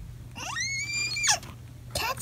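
A young child runs past screaming while other children play with a dog, one long high shriek followed by a second shorter cry, close and loud over a low background hum.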